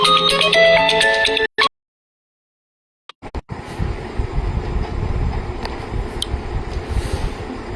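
A tinkly phone ringtone melody plays briefly, then cuts off into silence, followed by a few clicks and a steady rumbling background noise.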